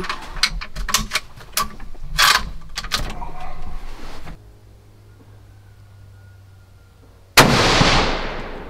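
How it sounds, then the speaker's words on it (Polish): A hunting rifle is being zeroed at a range in Poland. A few sharp mechanical clicks are followed by a quiet hum, then a single loud, close rifle shot cracks out and trails off in a decaying echo. "Poprzedni strzał zerwałem zupełnie."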